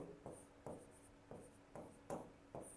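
Marker or chalk strokes on a classroom board as a teacher writes a word, about six short scratchy bursts in an irregular rhythm, close and fairly quiet with no talk.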